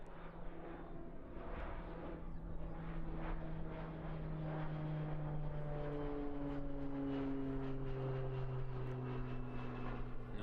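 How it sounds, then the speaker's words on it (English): A small propeller plane climbing steeply out of Christchurch Airport, New Zealand gives a steady droning engine roar, and its falling pitch shows it moving past at a distance. "Cute little plane."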